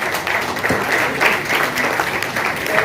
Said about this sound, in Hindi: तालियां आपकी कम है माननीय उनके सम्मान में